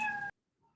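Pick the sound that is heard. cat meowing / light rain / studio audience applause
cat meowing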